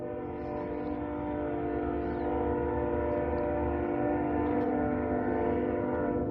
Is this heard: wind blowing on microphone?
no